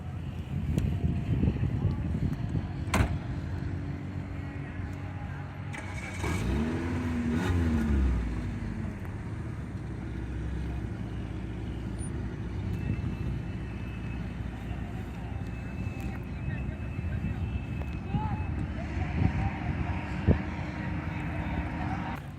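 A car fitted with a swapped engine is driven in Pakistan, its engine droning and revving under gusty wind noise, with voices heard at times.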